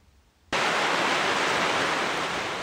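Heavy-rain floodwater in Tacurong City, Sultan Kudarat, bursts in after a short quiet lead-in as a loud, dense, constant rushing roar that holds steady to the end.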